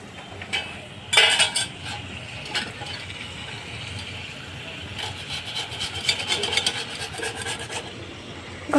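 Rasping rubbing and scrubbing in a home kitchen during evening cooking, heard as an irregular run of scratchy strokes close by, with a louder burst early on and steady rubbing afterward.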